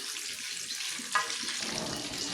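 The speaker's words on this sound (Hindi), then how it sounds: "इस वक्त हमारी मिर्चें फ्राई हो चुकी हैं माशाल्लाह" Chillies stuffed with chicken mince sizzle steadily in hot oil, a continuous close frying crackle with a brief louder spatter partway through and no talking.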